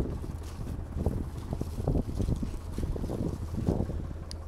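Wind rumbles low and heavy across the microphone outdoors in a field at plus 4 degrees, with uneven gusts swelling and easing continuously.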